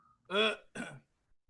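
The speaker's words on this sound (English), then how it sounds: "Seems like you have something to say there because you're clearing your throat." A short two-part throat clearing, a harsh voiced rasp followed by a quicker second grunt, close and fairly loud.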